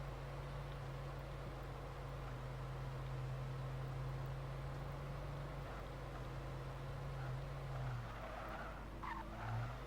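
A car driven in the video game Alan Wake, with a steady engine drone and long tire skids and squeals near the end, no talk over it.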